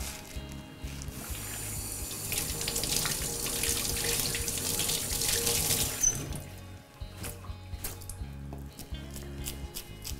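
A kitchen tap runs steadily into a sink while fresh mint is rinsed under it for fritters. The stream hisses continuously, splashes briefly, cuts off near the end and then resumes.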